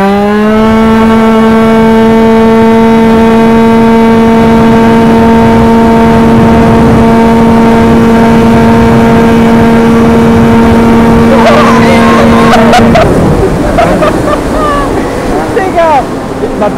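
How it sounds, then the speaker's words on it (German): Yamaha Aerox 70cc scooter with a loud, steady high-pitched two-stroke engine whine held at high revs for about twelve seconds during a high-speed run, then breaking into rougher throttle changes with heavy wind buffeting. "wir machen einfach direkt einen Highspeed-Test"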